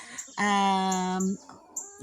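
A chicken lets out a drawn-out, nasal call lasting about a second, close by, followed by softer short clucks and rustling.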